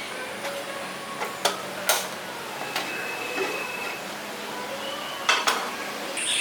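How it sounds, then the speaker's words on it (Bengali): A wok is set onto a lit gas stove with several sharp metallic clanks and taps over a faint steady hiss, the knocks loudest near the start and end, no talk. "দিয়ে কড়াইটাকে বসিয়ে দিই"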